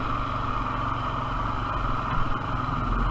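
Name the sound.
Honda Foreman 450 ATV engine idling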